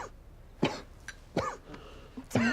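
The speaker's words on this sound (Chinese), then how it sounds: "怎么咳嗽了？" Three separate harsh coughs burst out close by, spaced about a second apart, with quiet pauses between them.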